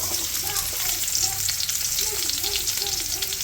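Onion fries in hot oil with a steady, dense close sizzle that holds evenly throughout the short stretch, nothing else breaking through.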